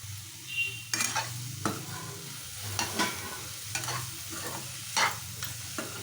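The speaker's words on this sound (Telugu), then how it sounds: "ఇదిగోండి ఇది మళ్ళీ అడుగంటుకోకుండా మనం కలుపుకుంటూ ఉండాలి" Radish fry stirred in a pan with a spoon scraping the bottom, giving repeated scrapes and clatters at an irregular pace over a low, steady sizzle, close up with no talk.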